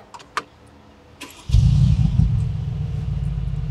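Keys jingle briefly before a Mercedes G63's V8 engine starts up, settling into a loud, deep, steady rumble close by.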